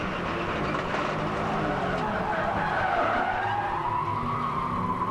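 An onboard race car at the Rolex 24 at Daytona spins, with tires skidding and squealing over a continuous, loud engine drone throughout.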